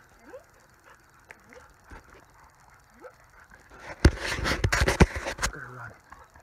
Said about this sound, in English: Look at that three-legged dog go.